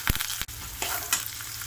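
Steady crackling sizzle of cumin and fennel seeds spluttering in hot oil, with a couple of sharp pops and a brief clatter near the start.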